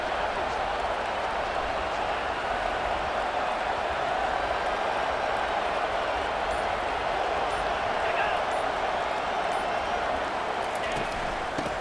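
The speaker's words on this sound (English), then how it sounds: "Listen to the crowd energy here in the early going." Dense, constant roar of a large video game football stadium crowd cheering, with a busy wash of noise and no breaks.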